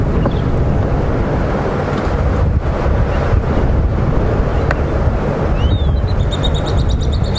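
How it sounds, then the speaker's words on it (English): Strong wind buffets the microphone continuously at a game reserve during an afternoon safari drive, a loud rumbling roar with faint high bird whistles near the end. "as windy as it is"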